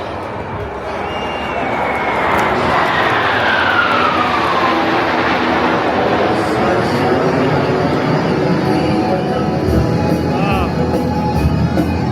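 Indian Air Force Surya Kiran aerobatic jets roar over an air show crowd, a loud sustained rush with a falling whine as aircraft pass. Faint crowd noise sits underneath.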